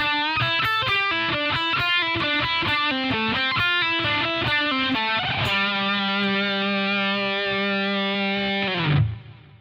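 An overdriven electric guitar rips through a fast solo lick of quick picked notes, then slides into a long held bent note that rings for several seconds before stopping, heard alone.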